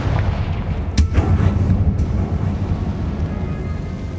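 A Confringo blast spell bursts in Hogwarts Legacy, a loud booming explosion with a sharp crack near the one-second mark over a steady rumbling game backdrop that fades slowly.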